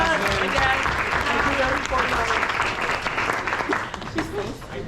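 An end-of-season cheerleading and JV/varsity sports banquet crowd applauds a senior team manager, loud sustained clapping mixed with cheers and chatter that gradually thins toward the end.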